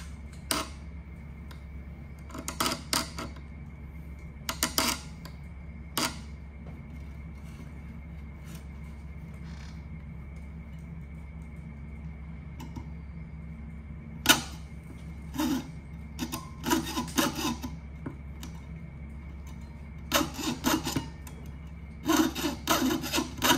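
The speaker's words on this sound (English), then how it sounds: "So as you're sawing, the more that you can just go straight up and down, go slow." Short bursts of raspy hand-saw strokes cutting metal, close and scratchy, separated by pauses over a low steady hum.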